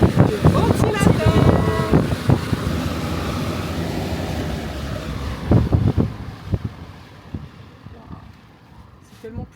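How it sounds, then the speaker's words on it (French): A powerful fan blows inside a tent with a loud, steady, jet-like roar. Voices talk over it, and the rush eases and thins toward the end. "on a un moteur à réaction en guise de ventilateur"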